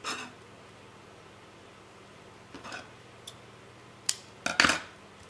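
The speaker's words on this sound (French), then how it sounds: "Mes ciseaux." Scissors snip during a craft project embellishing a pen holder for a junk journal, a few sharp cuts scattered over quiet room tone, with a quick cluster of clips near the end.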